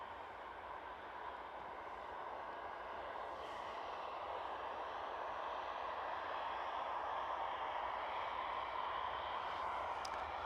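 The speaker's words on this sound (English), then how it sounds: "Ryanair rolling." A Ryanair airliner rolls along the runway at an airport, a faint, distant, steady jet engine roar that swells slightly over time, with no talk.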